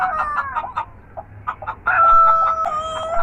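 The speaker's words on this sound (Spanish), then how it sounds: "Yo estoy seguro que escuché el canto de un gallo." A rooster crows clearly and close by, its long harmonic call rising and holding, with some clucking-like bursts before it.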